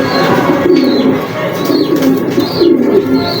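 Pigeons coo repeatedly in soft, rolling calls, several birds close by, with faint chirps and some flapping in a busy loft.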